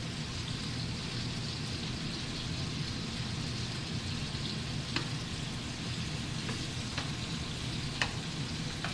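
Shrimp frying in a pan for scampi, giving a steady, even, rain-like sizzle with a few faint crackles and pops throughout.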